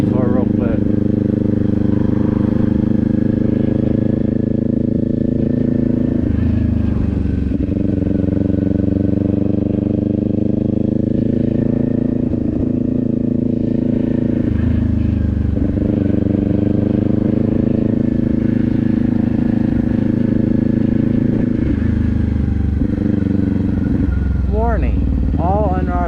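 A Kawasaki Z400 motorcycle engine while riding, a loud steady harmonic drone that rises and falls with gear changes and throttle over the whole stretch, with some wind noise.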